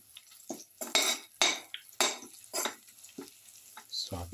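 A spoon stirs food sautéing in a pan with salt, giving a series of distinct scraping, clinking strokes over a faint sizzle, close and fairly quiet, with no talking.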